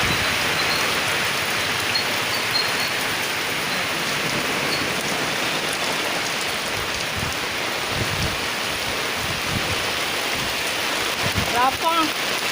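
Heavy rain pours down during Typhoon Ulysses as a steady, loud, dense hiss of falling water that lasts the whole time, with a few faint thumps and low background sounds underneath.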